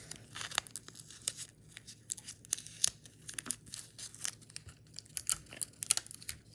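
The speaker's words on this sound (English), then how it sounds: "So just tape it all around once you're done with that part." Adhesive tape is pulled and wrapped around a foam popsicle squishy, producing irregular close crackly rips and crinkles in short bursts, with no talk.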